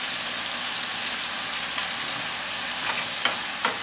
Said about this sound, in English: Stir the tomatoes.